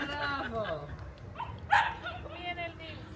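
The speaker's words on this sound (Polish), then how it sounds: "Uważaj, e, Paulina, bo pies idzie" A dog near a seaside harbour gives a couple of short barks and yips amid people chatting and laughing close by.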